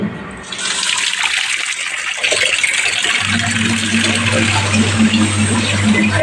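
Running water rushes steadily while laundry is rinsed, a continuous close splashing wash with a low mechanical hum joining partway through.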